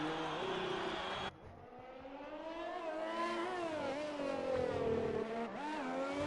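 A Ferrari race car in a sim racing game at the Singapore circuit revs and shifts, its engine note climbing and dropping through the gears. The engine is loud and continuous, with a brief dip as the car lifts off.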